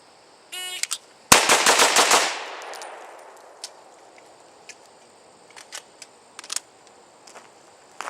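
Rapid string of pistol shots fired at range targets during a timed skills drill, about eight sharp loud cracks in quick succession with a ringing tail, preceded by a brief beep and followed by faint clicks.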